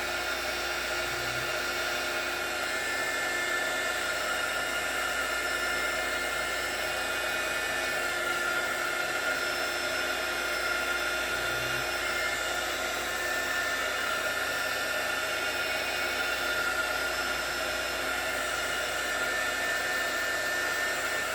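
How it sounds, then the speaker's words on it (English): A heat gun blows steadily on a tumbler, a constant even whooshing hiss with a faint high whine that runs unbroken from start to finish at moderate volume, with no voices. "I'm just using the heat gun to just fan them out and get them to start moving."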